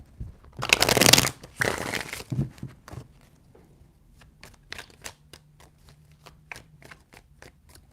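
Tarot cards shuffled in a few loud riffling bursts, followed by a lighter run of quick card taps and flicks, close up with no talking.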